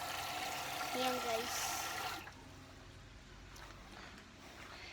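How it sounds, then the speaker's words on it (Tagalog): Tap water running into a container at a home sink near the rice cooker, a steady close wash for about two seconds that then stops, with someone talking briefly over it. "lalagyan ko ito ng tubig"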